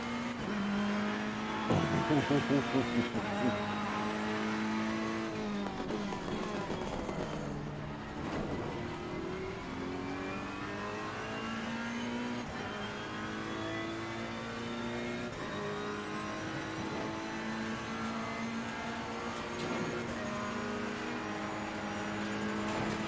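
GT race cars roar around a track in the video game Assetto Corsa Competizione, the engine climbing steadily in pitch through gears with downshifts and repeated revving, loud and continuous.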